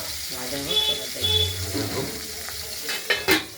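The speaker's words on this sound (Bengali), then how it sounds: "মাছগুলোকে ধুয়ে নুন হলুদ মাখিয়ে কড়াইতে তেল গরম করে ভেজে নিচ্ছি" Rohu fish pieces rubbed with salt and turmeric fry in hot oil in a wok, a steady close sizzle with crackling, scraping stirs and a faint tonal hum underneath, plus a couple of sharper spits near the end.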